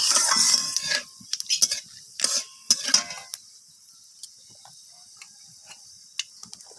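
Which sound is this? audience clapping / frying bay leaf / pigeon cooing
frying bay leaf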